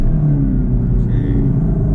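A Camaro SS 1LE with its engine rumbling deep and steady while its tires are warmed, heard up close for a brief, unbroken stretch.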